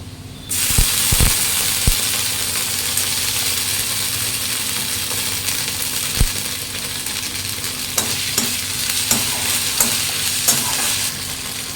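Ginger paste frying in a pan for Bengali rui fish kalia, with a steady sizzle under a few sharp scrapes and clinks of a stirring spoon against the pan.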